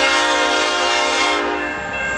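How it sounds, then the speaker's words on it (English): A CN mixed freight train sounds its loud, sustained horn at the Harrison Ave railroad crossing in Trenton, Michigan, heard close and continuous, with a slight shift in tone near the end. "he's blowing his horn"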